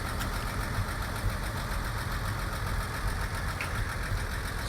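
A 1953 Chevy truck engine runs at a steady idle, its even low rumble and faint knock holding constant throughout with no talk.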